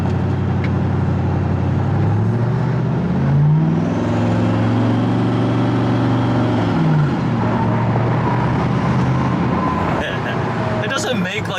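A Koenigsegg Regera's engine revs and accelerates with a loud, deep rumbling drone that swells through the middle and then eases off, with voices heard over the sound.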